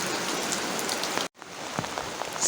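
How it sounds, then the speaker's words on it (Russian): Heavy rain pours steadily onto a surface in a rural yard, a dense, loud hiss with scattered drop impacts that cuts out briefly midway before resuming. "Сильный идет дождь."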